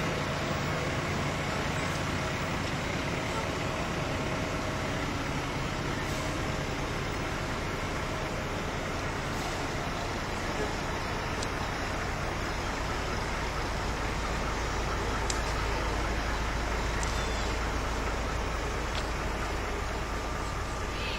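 Bryan fire department engines, pumping units, roll past in a hometown jubilee parade, a steady broadband rumble of traffic and diesel engine noise with occasional higher clanks, continuous and moderately distant throughout.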